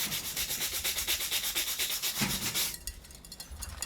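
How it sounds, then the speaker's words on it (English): Sandpaper rubs rapidly back and forth across a gold bar in a close, rhythmic scrubbing of about a dozen quick strokes that then turn softer and lighter for the last second. "I hit it with a piece of sandpaper"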